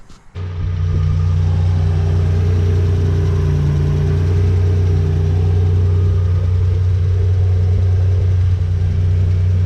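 Nissan Navara with a VG30 engine idling while warming up, starting with a brief clunk before settling into a loud, steady, even hum that holds throughout with no other sounds.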